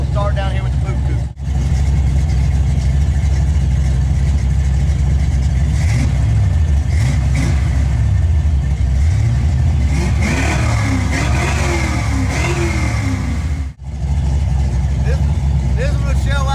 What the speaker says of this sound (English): All right, so what we'll do now is give you guys a quick rev test of all of them. We'll start down here with the boot coupe.